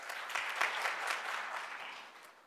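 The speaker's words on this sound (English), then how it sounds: "Most importantly, applaud yourselves." An audience at a law school keynote event claps for itself in steady, dense applause that swells slightly and then tapers off.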